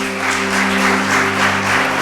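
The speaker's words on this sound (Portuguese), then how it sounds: "Vamos aplaudir Jesus." A church congregation applauds together in a steady, continuous wash of clapping, with sustained organ or keyboard tones ringing underneath throughout.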